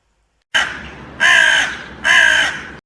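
A crow caws three times as a sound effect in a Native American folk tale, loud and close, with the harsh calls evenly spaced and each one lasting a fraction of a second, heard alone with no talk.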